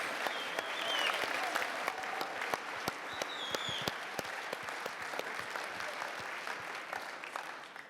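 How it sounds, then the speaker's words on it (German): Audience applause at a German Q&A event with a startup's founders, steady clapping from a crowd filling the room at moderate loudness, continuing evenly for several seconds with a few louder claps standing out and no speech. "Mit Applaus, bitte laut."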